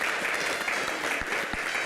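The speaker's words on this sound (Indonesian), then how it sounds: "Kita berikan tepuk tangan yang paling meriah." A studio audience applauds in welcome of a retired Indonesian air force officer as he arrives, a short burst of dense, lively clapping with no voices over it.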